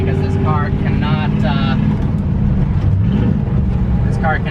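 A Shelby GT350 engine drones steadily with a low, continuous rumble while driving at low revs near 30 mph, with a voice talking over it throughout.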